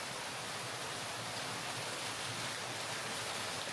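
Hot spring water pours as an indoor waterfall into a hiba-wood bath at Shirabu Onsen in Yamagata, a steady, full hiss and rush of falling water that fills the space evenly without a break.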